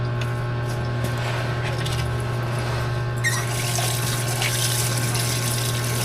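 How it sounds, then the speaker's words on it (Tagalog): Tap water running steadily while food is washed, a continuous close splashing flow with a low hum beneath it and brighter spraying in the second half, with no talking. "So, hugasan lang muna natin ito"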